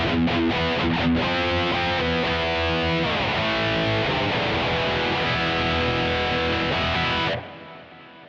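Electric guitar through a free high-gain amp preset, a thick distorted tone with strummed chords ringing out continuously, loud and close, before cutting off abruptly near the end.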